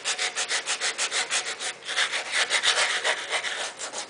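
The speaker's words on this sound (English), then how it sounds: "Just sanding away." Hand sanding of a metal bread box being prepared for chalk paint, a steady rhythmic back-and-forth scratching of about two strokes per second, close and continuous with no talk.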